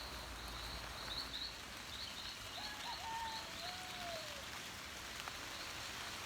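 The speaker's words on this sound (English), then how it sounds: "All right, starting to rain." Rain beginning to fall outdoors in El Valle de Antón, Panama, a steady soft hiss of drops throughout, with faint bird calls and insects chirping in the background.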